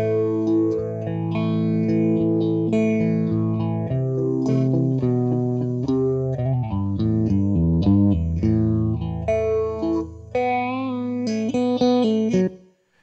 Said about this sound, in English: it could be a clean phaser